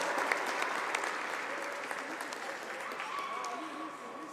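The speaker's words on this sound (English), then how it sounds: "Let's give Justin Lee a round of applause for his True Sport Award." An arena crowd at the Canadian Youth Long Track speed skating championships applauds an award winner with sustained, fairly loud clapping that holds steady and fades slightly near the end, with voices murmuring underneath.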